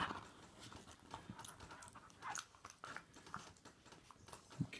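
Two dogs, Addy and Sunny, play-fight on a couch, biting at each other's cheeks, with quiet snuffling, panting and chewing sounds and soft scuffles, fairly close but low in level.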